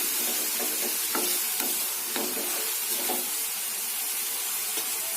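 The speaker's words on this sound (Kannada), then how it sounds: "ಇದು ಕೂಡ ಚೆನ್ನಾಗಿ ಫ್ರೈ ಆಗಲಿ ಟೊಮೊಟೊ ಕಾಯಿ ಜೊತೆ." Green raw tomatoes fry with a tempering in a pan for chutney, giving a steady close sizzle with soft stirring scrapes every second or so, alone without speech.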